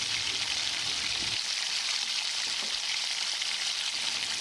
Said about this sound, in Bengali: গরম তেলের মধ্যে এবার দিয়ে দেব স্লাইস করে কেটে রাখা পেঁয়াজ কুচি।